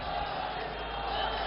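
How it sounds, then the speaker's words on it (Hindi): Large crowd at an election rally in Bhagalpur, Bihar, cheering and applauding to welcome Prime Minister Narendra Modi, a dense, steady roar of voices and claps filling the whole moment without letup. "भागलपुर की एक एक जनता ताली बजाकर स्वागत करें प्रधानमंत्री नरेंद्र मोदी जी"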